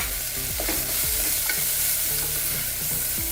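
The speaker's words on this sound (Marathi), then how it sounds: "आता कांदा चांगला परतून घ्यायचा।" Finely chopped onion sautés with cumin in a pan for dal khichdi, a soft continuous sizzle with stirring scrapes and light clinks, close and alone.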